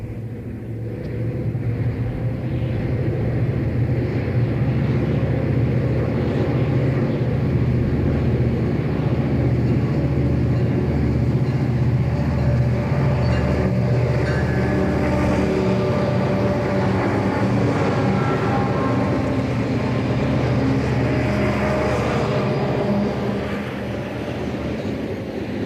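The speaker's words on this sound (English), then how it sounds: "An 844 train from Barstow, California to La Junta, Colorado pulls east." A Santa Fe 844 freight train heading east on the Arizona main line, bound from Barstow, California to La Junta, Colorado, gives off a loud, continuous low diesel rumble with steady engine drone that holds throughout.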